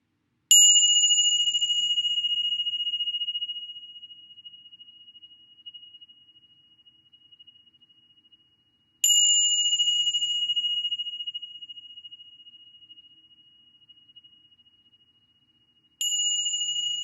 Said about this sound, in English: We'll close out the meditation with another chime of the bell.